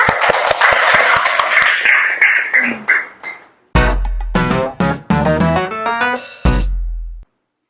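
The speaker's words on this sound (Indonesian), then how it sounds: "Tepuk tangan dulu untuk kita semua" Students in a classroom clap together in a quick rhythmic pattern of sharp, close claps that builds into a burst and then gives way to loud, tonal electronic sounds.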